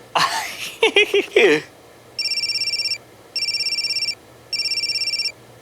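A telephone rings in three evenly spaced electronic bursts, loud and close, each a rapid warbling trill, following a brief voice at the start.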